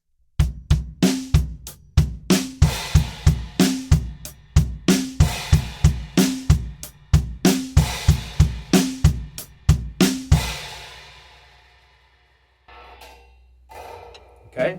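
Drum kit playing a beat with straight 8th-note hi-hat, kicks and a crash, a crisp steady pattern that stops and rings out, followed by faint handling noise.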